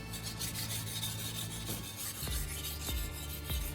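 A knife blade is drawn with light pressure across a fine-grit sharpening stone, making soft repeated rasping strokes close by, with a few faint knocks in the last two seconds.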